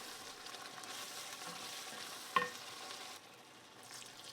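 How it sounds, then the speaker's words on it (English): Red wine hits a hot pot to deglaze a braise, giving a soft, steady sizzle with a single sharp clink of a utensil midway, then the sound drops quieter near the end. "Deglaze with red wine to release all of that flavor from the bottom of your pot."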